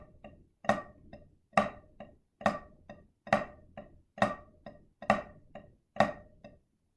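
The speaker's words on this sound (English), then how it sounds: "do the alternated Flam Tap rudiment in its completion" A drum plays the alternated flam tap rudiment, repeating a flam followed by a lighter tap in a steady, even rhythm. The strokes are crisp, sharp and close, with nothing else heard.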